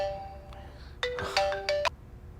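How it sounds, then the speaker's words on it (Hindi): A mobile phone ringtone chimes in repeated melodic bursts, loud and close, in a quiet indoor scene of a Hindi-dubbed South Indian film, with no talk over it. "इस टाइम पे क्यों फोन कर रहा है?"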